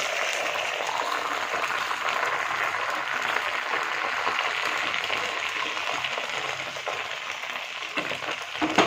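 Egg frying in a pan during home cooking, a steady broadband sizzle with crackling spits that runs unbroken for the whole stretch at close range, with no talk over it.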